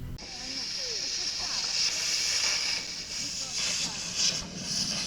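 A model steam engine at the centre of fairground chair swings at a model show hisses continuously, a steady, fairly quiet airy rush with faint background chatter and mechanical sounds.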